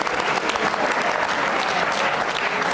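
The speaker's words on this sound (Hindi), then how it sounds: "तालियां बजाइए कायनात के लिए जोरदार तरीके से।" Enthusiastic audience applause for a young participant on a televised quiz program, a dense, steady wash of clapping that stays loud and even throughout.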